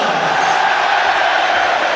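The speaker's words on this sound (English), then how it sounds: "Even the mention of his name gets a huge cheer." Football stadium crowd at a Premier League match between Manchester United and Liverpool, a steady loud roar of cheering that holds unbroken across the whole stretch.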